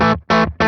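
Electric guitar played through a Morgan Amps Suite with a compressor pedal engaged, giving a clean edge-of-breakup tone; three loud, sustained strummed chords with short gaps, each attack clamped and evened out.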